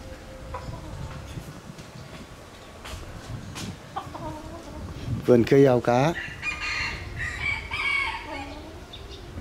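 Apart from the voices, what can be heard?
bantam jungle fowl roosters clucking and crowing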